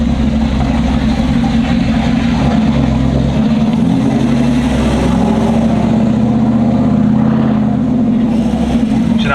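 A loud, cammed truck engine idles steadily with a choppy, uneven low throb, close to the listener, running continuously throughout.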